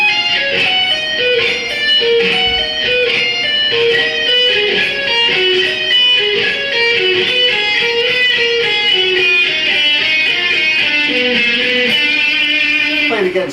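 Electric guitar plays a fast, continuous run of multi-string arpeggios across 2 to 5 strings, loud and steady with rapidly changing notes and no talking.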